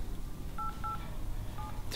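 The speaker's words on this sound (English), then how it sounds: "who I'm ringing right now is the blood donation service" A telephone is dialed to ring a blood donation service: a short series of clear touch-tone beeps, two quick ones close together and then another after a pause, over quiet room background.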